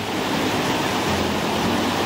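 Surf at Sand Beach in Acadia National Park, a steady, full rush of breaking water and foam with no distinct individual waves, loud and continuous throughout.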